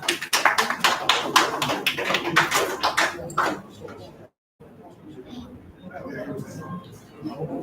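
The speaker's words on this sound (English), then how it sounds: "Round of applause for Chika." Audience at a dealer engagement program clapping for a presenter, a brisk burst of many hands for about four seconds, then a brief gap before murmuring voices and scattered noise take over.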